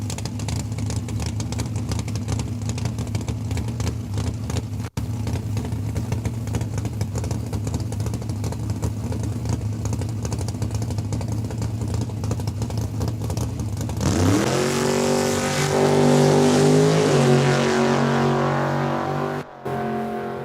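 A '93 Daytona drag car on radial tires at Saskatchewan International Raceway: a loud, steady engine drone that breaks into a sharp, rising rev with a strong harmonic whine as the car launches and pulls away.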